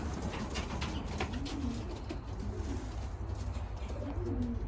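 Racing pigeons in a loft cooing softly in repeated low phrases over a constant background hum, moderately close and without any talking.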